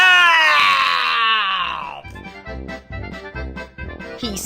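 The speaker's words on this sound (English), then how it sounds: "He screams." A storybook wolf lets out a long, loud wavering scream after falling into a pond, sliding downward in pitch, followed by short rhythmic musical hits.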